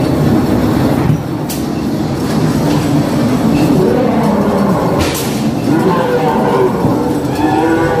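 Ghost train ride at an amusement park fair in Jaboticabal rumbles along steadily, a continuous rolling rail noise with a few rattling bursts, while people talk and call out over it in the dark.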